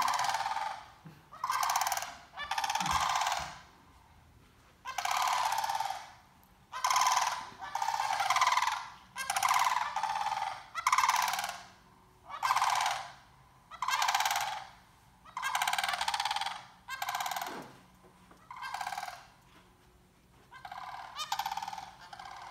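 Loud, rattling calls of sandhill cranes repeat in a steady series of about a dozen bursts with short gaps between them, close by, with no talking.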